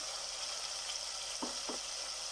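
Spices and chopped tomato sizzle in a pan with a constant frying hiss, broken by a couple of soft scraping stirs near the end; no one speaks.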